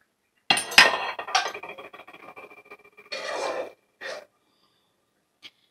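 Fried catla fish go into a cooking pot with a few loud clanks and scrapes of metal utensil against the pot, short bursts separated by quiet gaps, the last one faint and brief.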